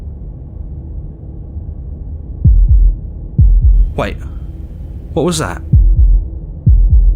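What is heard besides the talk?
heartbeat in the video game Slay the Princess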